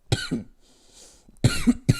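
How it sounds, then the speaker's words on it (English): A few sharp coughs close by, in two bursts separated by a short quiet gap with faint background noise. "your clothes are making me cough"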